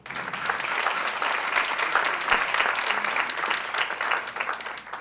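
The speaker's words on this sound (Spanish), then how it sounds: "Un fuerte aplauso" Sustained audience applause at an academic panel on a security law in a law faculty, steady and dense throughout with no break.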